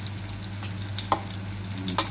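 Garlic sizzles in hot oil in a pan, a soft continuous crackle broken by a couple of brief stirring scrapes, close and moderately quiet with no voices.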